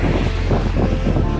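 Steady wind buffeting the microphone, a dense low rumble with constant gusty roar and no voices.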